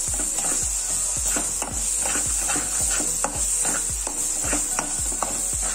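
Egg gravy curry being stirred in a pan: about a dozen regular, rhythmic scraping strokes of a spoon against the pan over a constant sizzle, close and clear with no talking.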